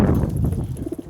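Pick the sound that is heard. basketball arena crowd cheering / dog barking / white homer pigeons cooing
white homer pigeons cooing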